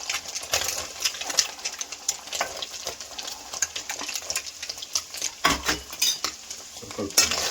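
Beans and carrots stir-fried for fried rice, a continuous sizzle with busy scraping and clattering of a utensil against the pan in uneven bursts, close and moderately loud, no speech.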